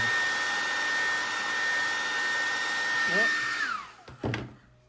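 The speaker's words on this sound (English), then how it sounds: "I'm going to use my blow dryer. It's going to get a bit noisy." A hair dryer blows steadily with a loud whooshing hum and whine, then winds down and cuts off near the end with a couple of thumps.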